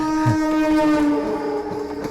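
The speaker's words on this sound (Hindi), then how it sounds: "इस ट्रेन में शशि तुम्हारा हर रोज जाना आना होता है ना?" A passenger train rolls past while its horn blows a loud, sustained, reedy tone over low rumbling rail noise, close and continuous for about two seconds.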